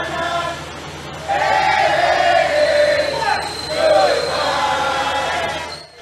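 A gathered crowd cheers and shouts as a Confederate statue is removed on an avenue in Richmond, loud overlapping voices rising and falling at middle distance.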